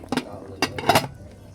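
A cooking pot being handled, a few clanking metal knocks and scrapes heard close, with a voice speaking over them.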